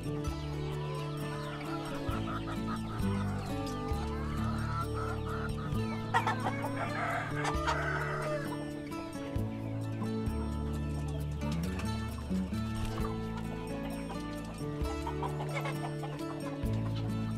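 Many broiler chickens clucking and squawking together in a busy, noisy chorus on a farm, with an occasional rooster crow, close by and continuous.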